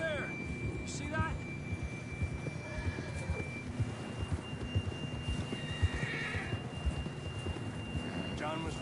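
A horse neighs and whinnies amid hoofbeats and wind in Red Dead Redemption 2, with a steady synthetic game ambience and occasional talk in the background.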